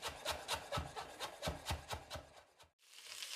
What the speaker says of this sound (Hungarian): egyszerűen finomra, hát inkább azt mondom nektek gorombára össze fogom vágni